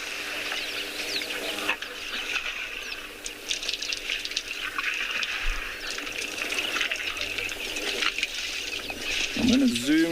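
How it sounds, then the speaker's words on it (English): Doves coo and other birds call around a water hole in Etosha, a soft chorus behind someone talking, with splashing water and a brief low rumble near the end. "we're still going to be watching and listening to the birds that always keep us company"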